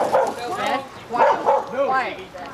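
Dogs barking and yipping on a college campus, a series of close, high-pitched barks in uneven bursts that rise and fall over a few seconds.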